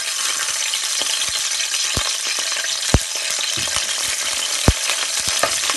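Ingredients for fish 65 frying in hot oil, a steady close sizzle with stirring scrapes and a couple of sharp clinks over the continuous crackle.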